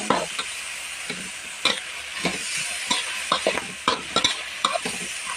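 Pork stir-fries in a pan with a constant sizzling hiss, punctuated by repeated scraping and clacking strokes of a spatula at an irregular rhythm, close and fairly loud with no speech.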